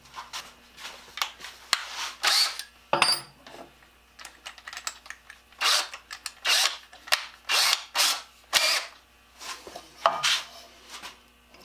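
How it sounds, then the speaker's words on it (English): A power drill bores holes through a metal water drip can in repeated short bursts of whining, grinding drilling separated by brief pauses, close and clear. "Might as well drill them both at once."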